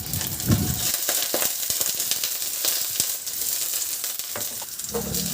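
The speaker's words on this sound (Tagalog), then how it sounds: "Sa kawali maglagay ako ng kunting mantika. Igisa ko na yung bawang, luya." Garlic and ginger sauté in a little oil in a pan, a loud close sizzle with bursts of crackling, scraping stirs and clattering utensil knocks throughout; no one speaks.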